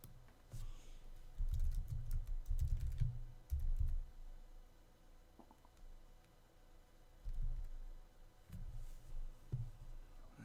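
Bursts of typing on a computer keyboard, clustered rapid key clicks close by with short pauses between runs, fairly quiet and with no voices.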